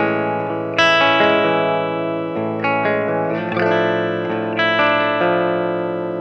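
An electric guitar plays through the lead channel of a Peavey Rage 158 amp set to low gain, giving a warm, lightly driven tone. Sustained chords ring out with fresh strikes about every second or two, loud and close, with no talking.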